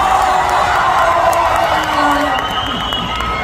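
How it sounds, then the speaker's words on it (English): Crowd at the Mexico premiere of Mission: Impossible cheering and applauding for Tom Cruise and Christopher McQuarrie, a loud, continuous roar of voices and whoops with clapping underneath. "big applause, please, from Christopher McQuarrie and Tom Cruise"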